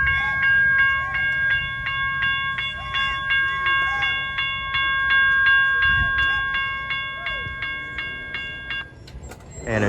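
A railroad crossing in Plant City, Florida, with its bell clanging in a fast, steady rhythm over the low rumble of a passing train; the ringing stops shortly before the end.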